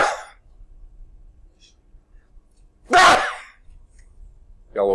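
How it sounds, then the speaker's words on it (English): A single sharp human sneeze breaks a quiet lecture room, preceded and followed by brief bits of speech. "I've got to sneeze, sorry"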